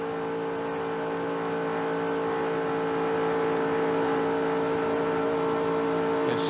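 Busch series race cars at full throttle in the 1996 Goody's Headache Powder 300, a sustained loud engine drone that holds steady and swells slightly toward the end, no talk.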